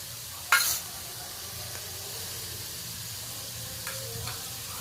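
Ginger paste dropped into frying onions in a pan for an egg korma gives a brief loud sizzle, then a steady low frying hiss with a few faint stirring scrapes, no voices.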